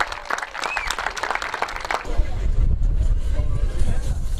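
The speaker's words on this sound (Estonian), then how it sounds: "Aplaus ka 65." Applause for the motocross podium riders at a TOP200 motocross cup round, a burst of crowd clapping mixed with wind and outdoor rumble, heard from a distance at the open-air track.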